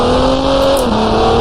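A race car engine in the video game GT Racing 2002 holds a loud, steady high-pitched drone close up, its pitch dipping slightly as the car is thrown around near the grass.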